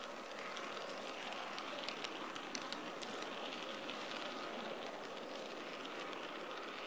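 Steady rattling rumble of a model train running along layout track, continuous and fairly quiet, with faint clicks over an even hiss.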